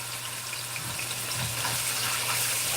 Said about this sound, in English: I'm going to run some water on this.